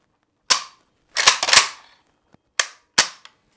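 An AK47 rifle gets a function test after a furniture swap to Magpul and PSA Plum parts, giving sharp, close metallic clicks and clacks of the trigger and action in about five separate bursts, with no talking.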